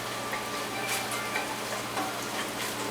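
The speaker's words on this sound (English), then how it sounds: "starting to sizzle my carnitas." Pork carnitas sizzling in a frying pan, a steady close crackle of frying fat that holds at an even level the whole way through, with no voices over it.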